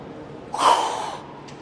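A forceful exhalation pushed out during an abdominal crunch, one sharp breathy burst that swells quickly and then trails off over about half a second, close and fairly loud against a quiet background.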